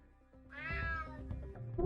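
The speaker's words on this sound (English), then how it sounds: "Damn cat." A cat in the video game UnMETAL, a parody of Metal Gear Solid, lets out one drawn-out meow lasting about a second, close and fairly loud over low game background sound.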